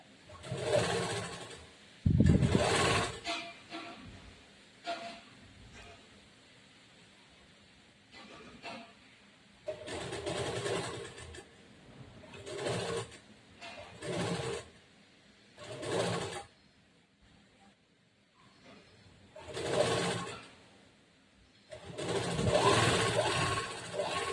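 A sewing machine stitching blouse fabric runs in short repeated bursts of whirring, each lasting a second or two, with quiet pauses between them, heard up close.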